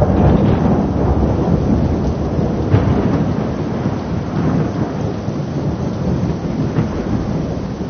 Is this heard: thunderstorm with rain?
yes